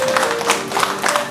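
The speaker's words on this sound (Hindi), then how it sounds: "तालियां बजती रहनी चाहिए।" A crowd claps at a Hindi translation workshop ceremony in Dibrugarh. The hand claps are steady, fairly loud and evenly spread, with a faint tonal hum underneath and no clear voices.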